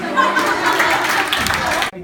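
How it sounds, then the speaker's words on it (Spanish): An audience at a cultural extension event breaks into applause, a dense, steady wash of clapping that holds loud for about two seconds and then cuts off. "un aplauso."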